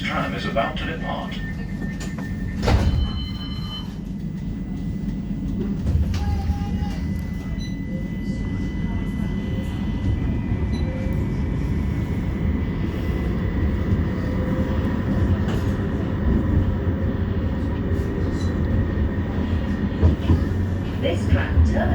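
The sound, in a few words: West Midlands Metro tram departing from the stop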